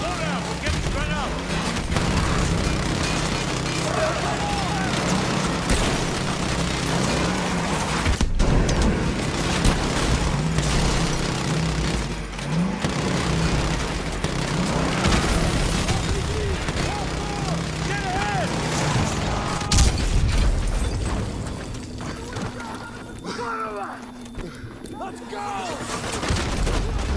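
Gunfire in Call of Duty: Modern Warfare 2 multiplayer: dense, continuous bursts of shots and booms across the whole stretch, loud and busy, with a player talking over the battle throughout.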